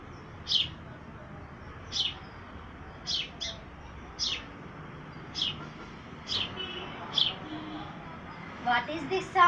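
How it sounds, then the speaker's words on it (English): A bird chirps in short, sharp calls spaced a second or so apart, fairly faint over a quiet outdoor background. "This is a bird sound."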